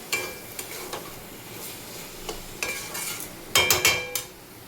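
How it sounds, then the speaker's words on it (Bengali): Fish frying in a pan for a cucumber curry gives a steady close sizzle, broken by sharp metallic scrapes and clinks of a spatula turning the pieces, with a busier cluster of strokes near the end. "বন্ধুরা শসা তরকারির জন্য মাছটা ভেজে নিচ্ছি"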